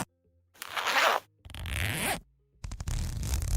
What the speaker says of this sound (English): When Dave mentions Heavy Metal, can you edit a sound of a zipper unzipping, the sound effect?